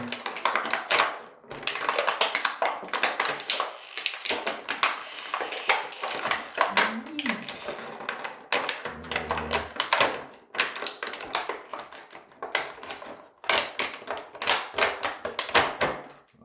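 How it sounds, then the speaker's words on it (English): A toy action figure is worked free of its plastic packaging cage, producing close, irregular crinkles, taps and plastic clicks that come in bursts with brief pauses. "Had to wiggle him out of that plastic cage."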